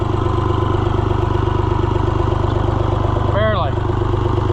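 An old, neglected Oliver 1250-A tractor engine labours steadily under load in first gear, a constant throbbing drone running throughout, with a short whistle-like tonal sweep near the end.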